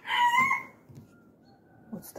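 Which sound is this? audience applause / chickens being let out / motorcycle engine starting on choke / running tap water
chickens being let out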